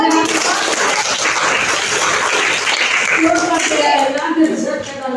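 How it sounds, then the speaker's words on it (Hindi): Children in a classroom clap together after a picture-book story, a brisk burst of many small hands lasting several seconds, with a teacher's voice and chatter mixed in toward the end. "बहुत सुंदर, ताली बजा लो।"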